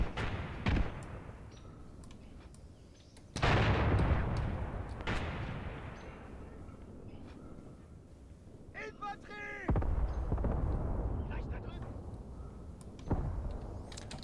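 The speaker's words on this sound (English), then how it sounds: "Yeah, mortars are engaging." Mortar fire in the World War II tactics game Graviteam Tactics, heavy artillery at a river bridgehead: several loud booming impacts with long rumbling decays, spaced a few seconds apart, with a voice talking in between.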